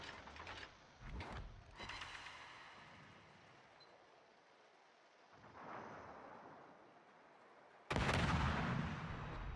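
Battleship secondary guns firing in a naval video game, a series of booming blasts with rolling rumble, the loudest burst landing near the end.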